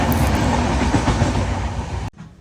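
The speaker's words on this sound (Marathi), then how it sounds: "तिकडून एक ट्रेन जाते आहे." A train rushes through Vinhere station past a stopped train waiting there for a crossing at night, a loud, close rumble with rhythmic wheel clatter that cuts off abruptly after about two seconds.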